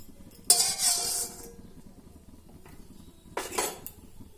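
Fried ingredients for a drumstick chutney are scraped out of a wok onto a plate, giving two short bursts of metallic clinking and scraping separated by a quiet pause.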